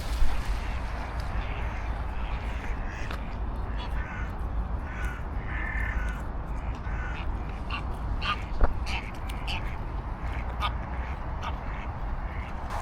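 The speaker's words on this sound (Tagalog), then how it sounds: "merong uwak" Crows caw in scattered short calls, some near and some farther off, over steady wind and outdoor rumble in freezing winter at Strathclyde Park, near Glasgow, Scotland.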